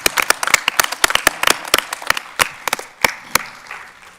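A school board meeting audience applauds to congratulate students, with sharp, sparse claps from a few nearby people that thin out toward the end.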